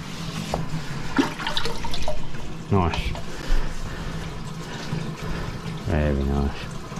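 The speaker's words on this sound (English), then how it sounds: "Give it one more flush." A toilet is flushed after its blocked drain has been cleared with a snake, giving a rushing gurgle of water and draining swirls, with some short knocks and a person speaking nearby.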